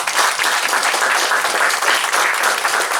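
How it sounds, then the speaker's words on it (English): Applause from a ceremony audience, a thick continuous round of clapping heard throughout the short stretch with no pauses. "everyone gets a round of applause now"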